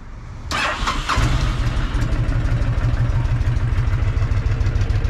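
A 2007 Honda VTX1300C cruiser motorcycle with 10,800 miles cranks briefly, fires up and settles into a deep, steady rumbling idle that continues loud and close.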